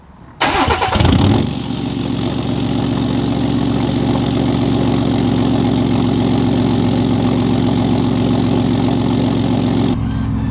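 A 2019 Ford F-150 3.0 Powerstroke diesel engine, deleted and tuned, cranks and catches outdoors, then settles into a steady, loud, rumbling idle that runs on for several seconds before cutting off.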